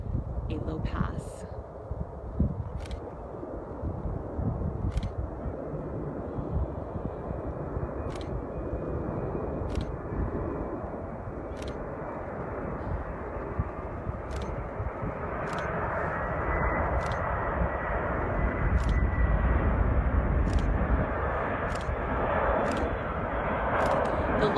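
Stratolaunch, the largest airplane ever built with a 385-foot wingspan, making a low pass over the runway: a broad, sustained engine roar that swells louder as it nears, under a voice and repeated sharp clicks.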